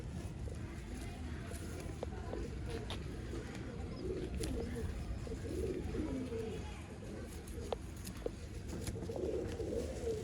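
Old line pigeons offered for sale in Bangalore coo steadily close by, layered with faint chirps and shuffling over a constant low background rumble, while someone talks under the birds.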